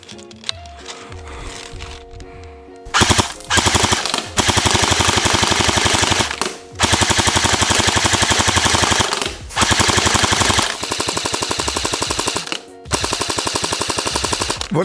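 Cybergun Kalashnikov AK47 Tactical V2 airsoft AEG firing full auto in several long, loud bursts of rapid mechanical cycling, separated by short pauses, after a quieter lead-in.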